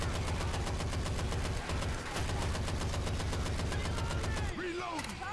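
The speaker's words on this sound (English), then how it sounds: "Oh, I could literally use the Gatling gun." A Gatling gun fires in Left 4 Dead 2, loud and close, a rapid, relentless stream of shots that runs almost unbroken and cuts off near the end, with a voice briefly at the close.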